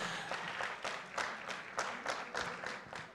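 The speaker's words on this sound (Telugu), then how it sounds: "అస్సలు కొడుతున్నారు క్లాప్స్, మామూలు క్లాప్స్." Applause from a houseful audience at a success celebration for the Telugu film The Girlfriend: rhythmic, fairly loud clapping with regular bursts of claps, no speech.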